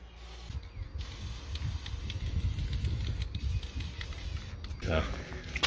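Cheap $2.50 enamel spray paint hissing from a rattle can onto a rusty marketplace trailer during repair, a steady broadband spray with short pauses between passes and a brief burst near the end.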